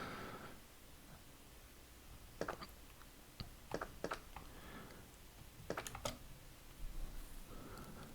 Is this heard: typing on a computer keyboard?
yes